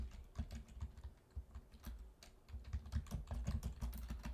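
Fingers tap on a computer keyboard in quiet irregular bursts of clicks, close and soft with brief pauses between runs of keystrokes.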